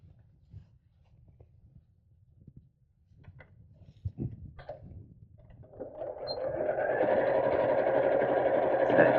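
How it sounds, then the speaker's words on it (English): After a few quiet handling taps and small clicks, a sewing machine starts stitching the side seam of a denim purse organiser, right sides together, and runs steadily and close for the final few seconds. "Let's sew the second side in right sides together."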